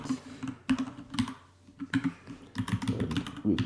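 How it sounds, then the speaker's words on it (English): Close, crisp keystrokes on a computer keyboard come in quick clustered runs with brief pauses between them, and no voices are heard. "At this second one here, I will type expire date"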